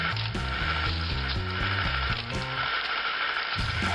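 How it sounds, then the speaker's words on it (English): A home ice cream maker with an ice and salt bucket churns pistachio ice cream, giving a loud, steady mechanical ratcheting and grinding with a repeating gear-like rhythm that runs continuously throughout. "Now here we can clearly see the ice cream churning inside"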